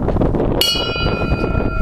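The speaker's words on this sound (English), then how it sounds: "Here's our bell for dive time." A bell rings out sharply once on a dive boat to mark dive time, its bright ringing tone lingering over loud wind and engine-like rumble.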